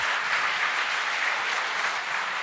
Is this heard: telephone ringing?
no